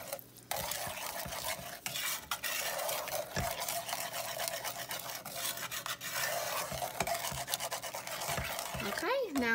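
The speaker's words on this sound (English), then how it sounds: "This is whole milk. I just like to get it mixed up real good before I put it back on the burner." Whole milk being stirred briskly in a pot off the burner gives a continuous close scraping and swishing of a spoon against the metal, with a few sharper knocks.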